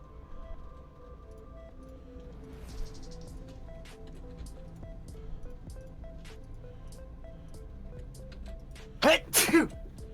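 A sneeze bursts out near the end, a sharp loud double blast after a long stretch of steady low game hum and faint ticking, heard while playing the Minecraft modpack Stoneblock 3.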